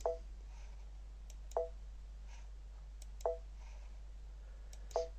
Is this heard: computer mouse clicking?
yes